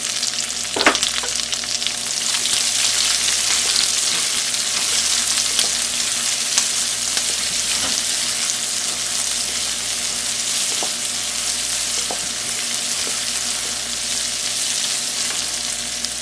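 Chilli flakes and green chillies fry in hot oil with a steady, dense, close sizzle and occasional faint crackles and stirring clicks. The sound runs continuously, with no voices.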